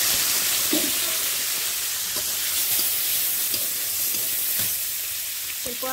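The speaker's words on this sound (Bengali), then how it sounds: "গরম তেলে ডিমগুলো ভেজে নিব।" Quail eggs fry in a hot kadai of oil with a dense, steady crackling sizzle throughout, close up, with a few faint clinks of stirring and no talking.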